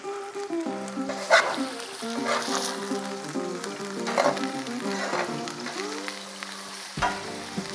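Pork ribs sear in a cast iron pot on a gas grill, giving a steady close sizzle and crackle that runs the whole time, with a few clinks and a brief thump.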